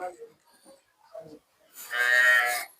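A freshly calved cow, offered for sale with two buffaloes, gives one clear, drawn-out moo close by after a few soft, low voice-like sounds.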